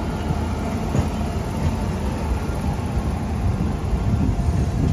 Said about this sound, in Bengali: ট্রেনটা এখন আজনি স্টেশন ছেড়ে নাগপুর দিকে যাচ্ছে